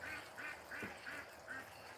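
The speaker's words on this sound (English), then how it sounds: "Can you hear the ducks?" Ducks quacking just outside a window, a run of five or six rhythmic, moderately faint quacks heard indoors against soft room noise.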